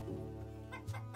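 Chickens on a Yakutian farm cluck softly in a brief, close burst of a few notes.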